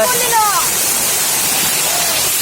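A powerful waterfall roars as a dense, continuous rush of falling water, loud and steady throughout, with a brief vocal sound early on.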